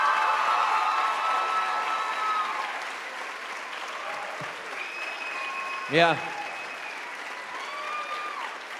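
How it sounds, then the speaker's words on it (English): A conference crowd at a Steubenville Atlantic 2014 youth gathering applauds steadily throughout, with a dense wash of clapping and scattered voices, a brief whoop standing out near the end. "Let's give a round of applause to these guys."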